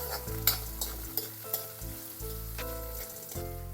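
Chopped onions sauté in a hot pan for a traditional onion kalsa, a continuous close sizzle broken by a few light spatula taps, with quiet background music.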